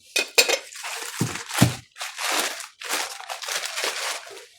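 Plates and kitchenware from a box clink, clatter and rustle as they are handled, with several sharp knocks and crinkling sounds in short irregular bursts, close and fairly loud.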